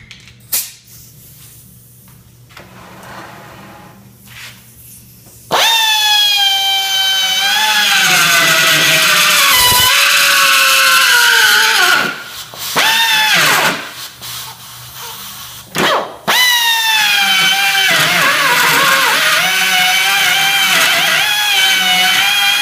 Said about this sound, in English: then using a small carbide bit to elongate it out